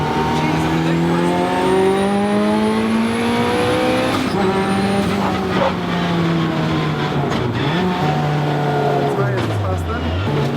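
A 500bhp K20 turbo Toyota MR2 Spyder warms its tyres on track, the engine loud and close, revs climbing and falling in long sweeps with tyre squeal, while voices talk over it.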